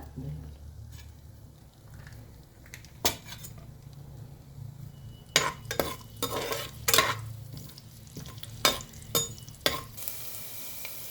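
Cumin seeds and chopped garlic fry in a pan for a capsicum curry, a low steady sizzle beneath repeated sharp clinks and scrapes of a metal spoon against the pan, growing busier toward the end.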